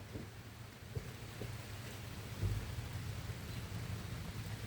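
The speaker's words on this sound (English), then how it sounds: "You can tell the rain is insane" A dense, steady wash of heavy storm rain with a low rumble underneath, continuous and fairly loud, no voices.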